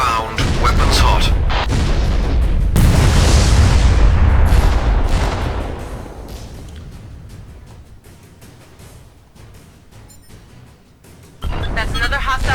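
Space combat in the Freespace game: a dense barrage of heavy weapon fire and booming explosions builds and then fades into a quieter stretch before loud blasts return at the end. Radio chatter runs through the action.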